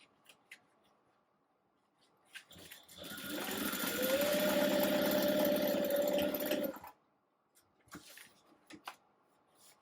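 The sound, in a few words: sewing machine stitching handbag side seams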